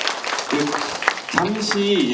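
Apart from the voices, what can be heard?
audience applause after a seminar presentation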